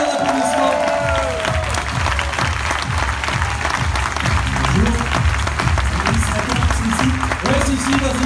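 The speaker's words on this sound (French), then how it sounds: "Un peu d'applaudissements." Audience applause at a French conference for an introduced guest, dense continuous clapping with a rhythmic thumping beat beneath it, loud and sustained, with a voice briefly audible at the start.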